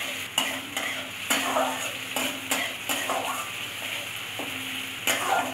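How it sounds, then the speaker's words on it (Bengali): Chopped onions and a green chilli fry toward brown in a pan, making a steady close sizzle punctuated by regular scraping strokes of a spatula against the pan. "পেঁয়াজটা একটু বাদামি করে নেব ভেজে।"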